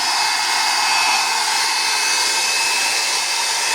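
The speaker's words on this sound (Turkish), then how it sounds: "kartımızı da su gelme ihtimaline karşı güzelce ne kuruluyoruz" A hair dryer blows steadily and close by as it dries the circuit board of a Demirdöküm Aden combi boiler after a heat exchanger replacement, a continuous broadband whoosh with a faint whine and no talking.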